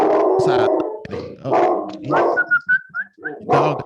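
A dog barks and howls nearby during a podcast conversation, with loud vocal bursts, a drawn whining pitch midway, and a voice mixed in.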